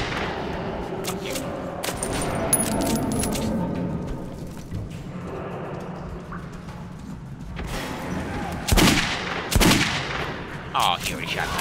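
Gunfire in Metro 2033 Redux, sharp shots cracking out over a continuous rumble of combat, a couple of loud bursts standing out near the end, close and harsh with no talk over them.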